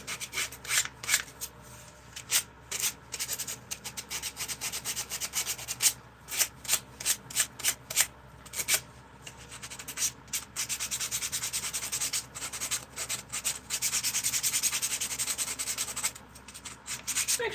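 A wooden spoon is sanded by hand with 80-grit sandpaper in quick, scratchy back-and-forth rubbing strokes, sometimes in bursts and sometimes in longer steady runs, close and fairly quiet.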